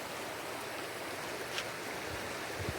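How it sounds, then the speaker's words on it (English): Steady rushing creek water flows nearby, a continuous broad hiss with faint gurgles and no voices. "And here we are by our creek."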